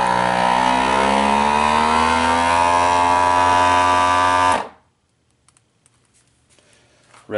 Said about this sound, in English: hit vacuum and seal